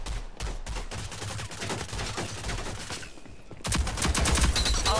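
Rapid bursts of automatic gunfire and shots from the team shooter game Rogue Company in Demolition mode, loud and dense, with a heavier, louder volley in the final second.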